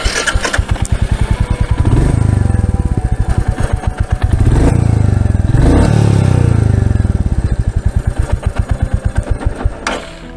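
A Royal Enfield Meteor 350 motorcycle's single-cylinder exhaust thumping loudly and close, starting up, idling with a steady pulse and revving in several rising swells before cutting off near the end.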